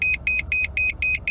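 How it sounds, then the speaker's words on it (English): A car's front and rear parking sensors give a rapid, evenly spaced run of high electronic beeps, about six short pulses, clear over a low background hum. "So it will beep and show you how far away you are from the objects"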